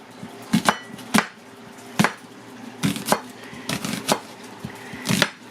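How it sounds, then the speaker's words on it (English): A knife chops through halved onions on a cutting board in sharp, separate knocks, roughly a dozen uneven strikes, close and clear with no talking. "but mostly I'll just cut it in half and slice them"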